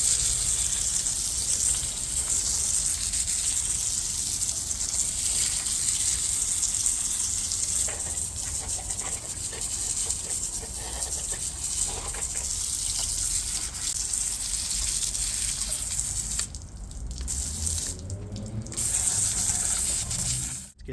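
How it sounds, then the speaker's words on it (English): High-pressure water spray blasts steadily against the engine block of a BMW E30 325i, a continuous loud hissing gush with brief interruptions near the end. "Now we're gonna just quickly pressure wash it off and degrease it."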